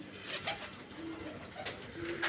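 A pigeon coos softly nearby, a few low throaty burbling calls repeating over a quiet background.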